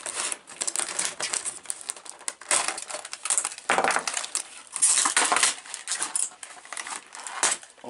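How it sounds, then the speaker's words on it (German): Plastic packaging from a Bismarck model kit is torn open and handled, producing loud, close crinkling and crackling in irregular bursts throughout. "mal gucken, ob ich diesmal das Ganze ein bisschen besser ausgepackt bekomme"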